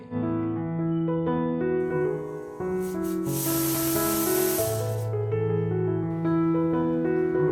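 A pressure cooker boiling beef tripe lets out a strong, steady hiss of steam for a couple of seconds, heard under sustained background music.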